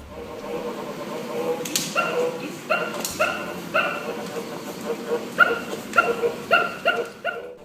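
A child's Mickey Mouse toy gives repeated short, dog-like growls and yelps in bursts that grow more frequent and louder toward the end, over a faint background hum.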